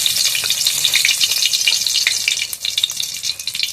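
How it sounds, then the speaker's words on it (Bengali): Dried red chillies hit hot oil in a kadai, producing a loud, dense crackling sizzle that stays steady throughout with small popping spurts. "তেলটা ভালোভাবে গরম হয়ে গেছে, তেলের মধ্যে দিয়ে দেবো শুকনো লঙ্কা"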